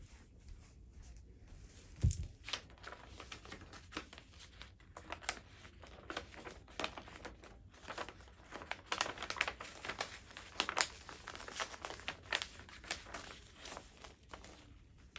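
Scissors cutting fabric pattern pieces for a bridesmaid dress: faint, close snips and crinkling paper rustles in an irregular rhythm, quiet and without talk.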